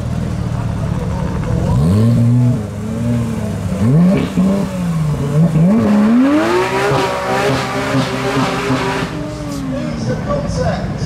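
A Porsche 911 Speedster Concept drives the Goodwood Festival of Speed hill climb, its engine revving up and down through several gear changes and passing loud and close, with faint crowd noise behind.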